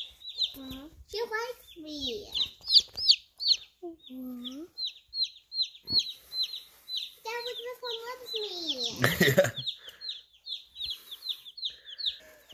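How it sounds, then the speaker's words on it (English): Plymouth Rock baby chick peeping in rapid, repeated high chirps throughout, close and fairly loud, with people talking softly over it. "It's okay, my little Plymouth Rock. You're a good chick."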